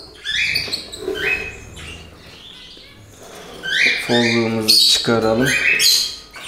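Newly hatched budgerigar chicks chirp in a nest box in a bird room, thin high peeping calls close by, mixed with a person talking.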